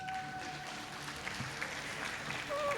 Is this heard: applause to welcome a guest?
yes